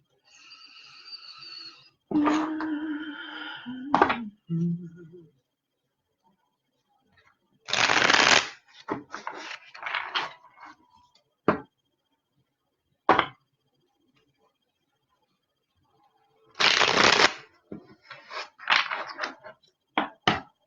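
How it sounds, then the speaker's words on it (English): A Rider-Waite-Smith tarot deck is riffled and shuffled in several separate crisp bursts with quiet pauses between them; a brief voice sounds at the start. "Two more shuffles."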